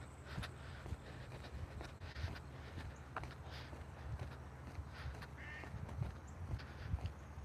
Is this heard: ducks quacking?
yes